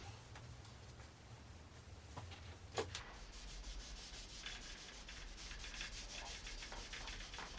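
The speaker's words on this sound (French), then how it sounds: "je vais utiliser de la cire liquide directement à appliquer au chiffon" Cloth rubbing liquid wax into a teak wood lamp, a soft, steady close-up swishing and scrubbing that continues throughout, with a few faint knocks early on and no voices.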